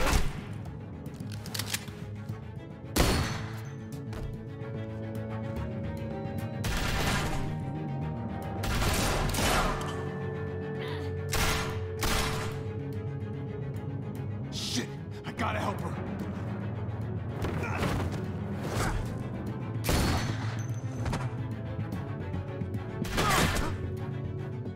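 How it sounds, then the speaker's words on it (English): Bursts of gunfire crack repeatedly amid a busy soundtrack of The Walking Dead: A New Frontier video game, with music and effects, while voices talk throughout. "I hear gunfire."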